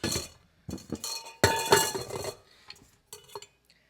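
A chilled bowl and whisk clink together in a kitchen, a few bright, sharp taps and rings scattered over four seconds with short quiet gaps between them.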